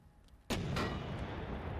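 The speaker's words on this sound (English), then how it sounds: "Go ahead and try to give a shot onto this tank." A tank shell fired in a WW2 strategy video game strikes an enemy tank: one sudden loud boom, with a second blast close behind it, then rumbling reverberation that fills the rest of the moment.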